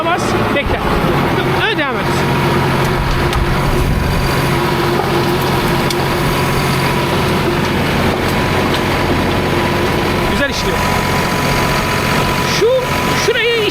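A New Holland T4.80 tractor engine runs steadily in an orchard, its drone holding level throughout, while people talk over it.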